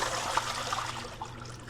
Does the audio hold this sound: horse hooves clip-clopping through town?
no